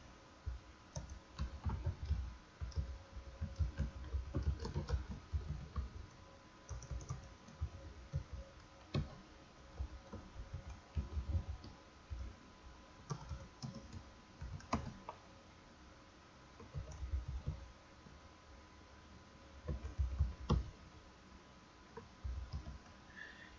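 Steady typing on a computer keyboard while writing code, quick bursts of soft clicking keystrokes with short pauses, close and fairly quiet, no talking.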